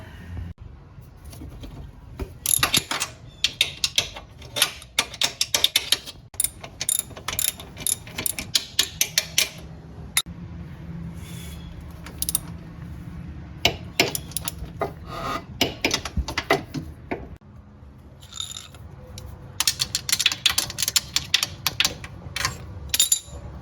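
Ratchet working on the 14 mm bolts of a Honda TRX420/500 Fourtrax Rancher Foreman front differential, giving bursts of rapid clicking with pauses between, close and fairly loud.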